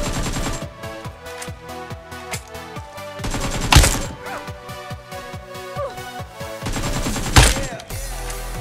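AKM assault rifle fire in a mobile shooter game, in three long automatic bursts of rapid close shots with sharp cracks between them, loud and continuous with brief pauses.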